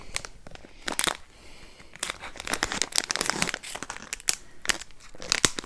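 Crinkly plastic packaging holding diamond painting supplies crackles and crumples in repeated bursts as someone struggles to open it, close and loud, with no talking.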